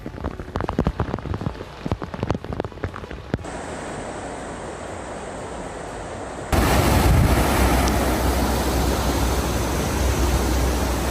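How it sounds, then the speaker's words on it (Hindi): Heavy rain pours down steadily during flood-like conditions, a dense roar of drops on surfaces that grows louder and fuller partway through, with no voices. "भारी बारिश के चलते जापान में बाढ़ जैसे हालात।"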